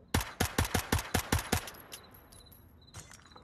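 Rapid burst of about eight sharp pistol shots fired in quick succession inside a video game, loud and close, with a faint high electronic tone lingering afterward and no talk.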